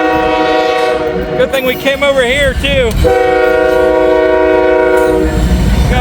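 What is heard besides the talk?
Norfolk Southern mixed manifest freight train passing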